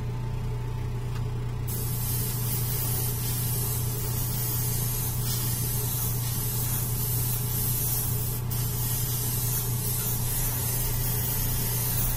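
Steady spray from an airbrush or spray can applying a mid-tone highlight coat to a Batman prototype model, a continuous even hiss running close and loud with no talking.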